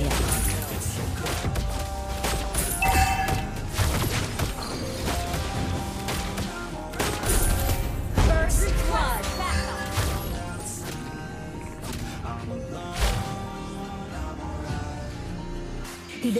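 Sniper shots from the hero Lesley in the mobile game Mobile Legends, using a high-damage emblem and build, crack out as sharp, repeated impacts within a dense, continuous mix of battle effects and music, with voices speaking over it.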